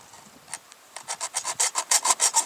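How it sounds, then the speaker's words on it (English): A small hobby hacksaw cuts a small metal piece for a folding spoon, first a few tentative strokes, then a steady run of loud, regular rasping strokes that grow stronger and closer together. "you want to take a hacksaw"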